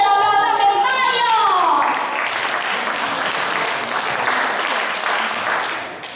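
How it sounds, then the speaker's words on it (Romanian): An audience applauds during a show in the Constantin Brâncoveanu hall of the Romanian Senate, a dense burst of clapping that follows a brief voice and holds steady for several seconds before thinning out. "Să-l aplaudăm pe Mario!"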